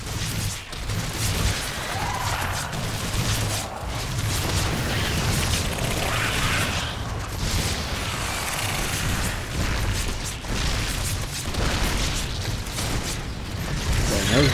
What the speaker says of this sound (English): Warfield has launched another missile at our forces